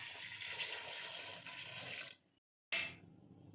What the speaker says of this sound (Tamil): தேவையான அளவு தண்ணி ஆட் பண்ணிக்கலாம்.